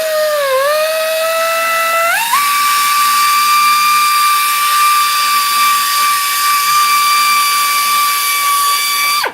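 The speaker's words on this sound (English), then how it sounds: "So I got this awesome little tool, little mini belt sander, and now I'm going to refine these" Mini belt sander refining small metal parts, a loud, steady high-pitched whine that rises in pitch after about two seconds and holds there, running alone until it cuts off.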